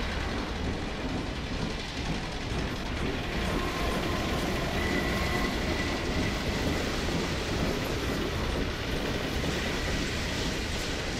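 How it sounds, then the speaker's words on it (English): Train carrying pods rolls past in Half-Life 2, a continuous heavy rumble and rattle of rail cars that stays loud and steady throughout, with no talking. "There's a train."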